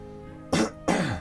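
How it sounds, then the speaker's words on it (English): A person clears their throat twice in quick succession, two short, close, rough bursts separated by a brief pause, with no talk. "Sorry, I had to clear my throat."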